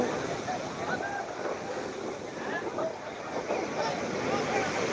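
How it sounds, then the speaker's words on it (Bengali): Rough sea surging onto Digha beach at spring high tide: a continuous, loud roar of breaking surf with gusty wind buffeting the microphone throughout. "আজকে দেখতে পাচ্ছেন তো কটাল জোয়ারে কেমন ঢেউ"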